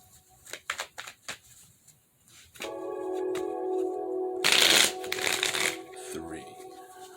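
Tarot cards shuffled by hand: a few soft taps and riffles, then a sustained close riffling shuffle with a burst of brisk flutter midway, tapering off; no talking.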